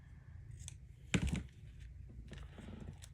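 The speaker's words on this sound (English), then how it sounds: "Let's cut the tails a touch shorter." Scissors cutting the tails of a ribbon bow, a short, close crisp snip in the middle, with a few fainter handling sounds around it.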